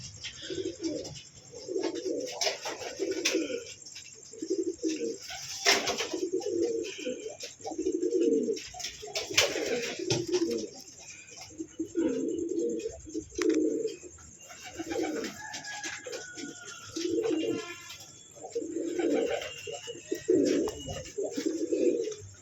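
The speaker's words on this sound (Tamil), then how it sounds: "இந்த நார்மல் புறா தான் அது." Ordinary domestic pigeons kept for sale cooing steadily in a loft, repeated low rolling coos in a regular rhythm, close and fairly loud, with occasional faint chirps and background hum.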